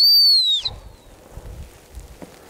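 A dog training whistle gives one loud, sharp blast with a falling pitch at the end, used to stop a retriever during bird dog training outdoors, followed by quiet field background.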